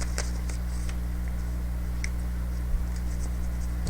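Tarot cards are shuffled by hand, giving a few soft, brief taps and riffles close by over a steady low background hum.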